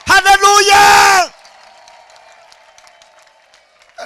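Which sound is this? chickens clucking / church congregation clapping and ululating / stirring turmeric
church congregation clapping and ululating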